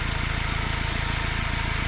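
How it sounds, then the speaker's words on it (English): A Kia Venga 1.4L CRDi diesel idles close by with a black smoke fault, a loud, even, rapidly pulsing diesel clatter that holds steady throughout with no voices. "you can hear that change the engine note"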